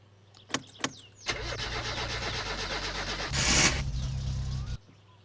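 A car in the video game My Summer Car cranks and fires up after a couple of sharp clicks, then runs with a rough steady idle, revs louder briefly, and cuts off. No voices.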